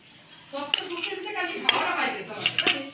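Dishes and cutlery clinking while rice is served at a home lunch table, with several sharp clinks of plates and spoons over a soft background of voices and movement.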